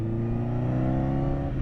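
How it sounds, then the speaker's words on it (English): A 2010 Honda CBR1000RR engine droning at steady high revs, a smooth harmonic roar held loud and close for a brief moment without a break. "This bike just sounds so incredibly good"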